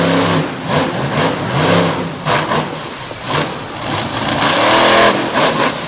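A loud race truck engine roars and revs hard as it launches off the line at a 2021 Bloomsburg, Pennsylvania truck event, its pitch climbing in surges under a rumbling, noisy backdrop.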